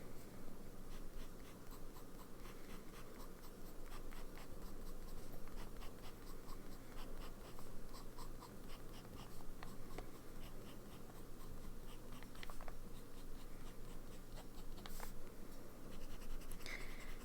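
A Pelikan 600-series fountain pen with a medium nib scratches across paper in steady soft strokes, close and quiet, with faint tapping of the pen lifting and landing.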